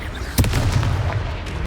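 A Confringo blasting spell bursts in Hogwarts Legacy during a boss fight against an armoured troll: one sharp explosive crack followed by rumbling low debris and softer trailing thumps.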